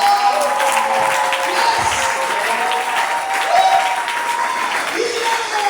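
A church congregation applauds and cheers in praise of the Lord, a dense, steady wash of clapping sustained throughout at close range, with a voice speaking briefly over it.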